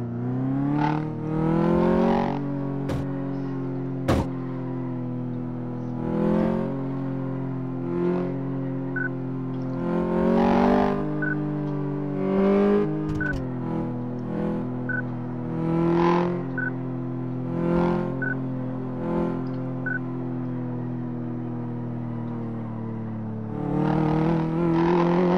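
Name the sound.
car engine running in video game Car Mechanic Simulator 2014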